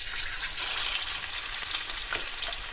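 Fish curry masala sizzles and crackles steadily in a pan, a close, continuous frying hiss with no voices.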